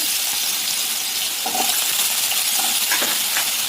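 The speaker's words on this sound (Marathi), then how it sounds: "याच्यामध्ये बटाटा फ्राय करून घेऊ" Potatoes frying in a pan for fasting bhagar, a steady sizzling hiss throughout with a few faint clinks, close and fairly loud, no talk.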